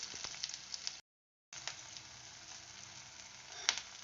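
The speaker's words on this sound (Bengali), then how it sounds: "এইভাবে উল্টে ওই পিঠটাও ভালো করে ভেজে নিচ্ছি।" Fish roe fritters frying in hot oil give a steady, close sizzle with crackles and pops, cut by a half-second silence before the frying resumes.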